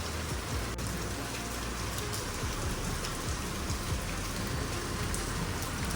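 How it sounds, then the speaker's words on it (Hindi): Heavy rain pours steadily on a rainy day, a dense, continuous hiss with no breaks and no voices, close and fairly loud throughout. "मैंने कहा आपको तो दिखाऊँ बारिश हो रही है।"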